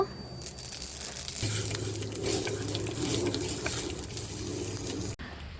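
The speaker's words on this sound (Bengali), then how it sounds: "এখন আমি ফোড়ন দিয়ে দেব খুব সামান্য তেল দেব" Rāndhuni spice tempering sizzles steadily in a little hot oil over a pumpkin and bori curry, a continuous close hiss with faint crackles that runs without talk before cutting off abruptly near the end.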